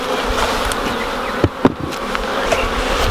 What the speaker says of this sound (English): As long as I can keep the bees over here and they don't follow me over the truck